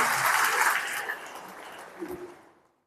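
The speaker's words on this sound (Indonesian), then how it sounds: "Tepuk tangan untuk kepala desa." Applause from an audience for a village head at a regional government coordination meeting in Rote Ndao, a dense wash of clapping that thins and fades out over a few seconds.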